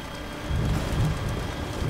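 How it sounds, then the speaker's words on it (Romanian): In the Death Stranding video game, rain falls steadily and a low rumble of thunder swells partway through. "A început și ploaia."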